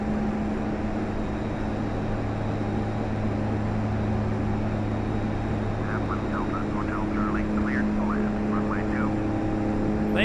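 Twin Otter aircraft engine in Flight Simulator X, a steady droning hum with strong low tonal bands held throughout, while a voice talks over it in the later part.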